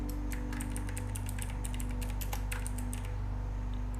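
Quick, light keystrokes on a computer keyboard as a full name is typed into a Kali Linux installer, a burst of irregular clicks over a steady low machine hum.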